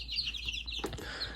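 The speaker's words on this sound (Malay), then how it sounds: "ada anak ayam sikit" Baby chicks in a small brooder coop cheep in quick, high, overlapping peeps. The chirps sound close and fairly faint, and a soft thud comes partway through.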